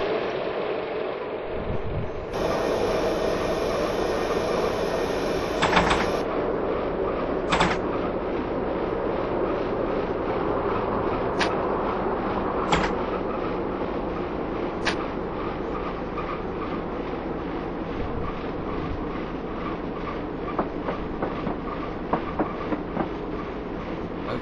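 Class 121 bubble car railcar rumbling along the rails as it brakes for a level crossing, a steady loud interior roar with a few sharp clicks and clunks and a brief high squeal early on.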